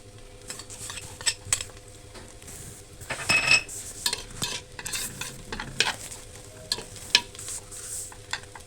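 Frying onions stirred with tomatoes in a pan, a utensil scraping and clinking against the metal in irregular strokes over a steady sizzle, close and moderately loud with no talking.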